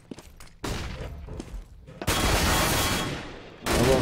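Counter-Strike: Global Offensive match on de_nuke: bursts of rifle gunfire, a few sharp single shots, then two heavy sustained volleys with a final loud burst, with faint commentary voices between.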